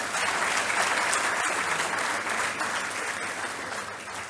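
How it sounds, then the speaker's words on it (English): An audience at a budget discussion event at IIM Kozhikode gives its guest speakers a steady, dense round of applause that holds throughout and tapers slightly at the end. "Can we please have a round of applause for them?"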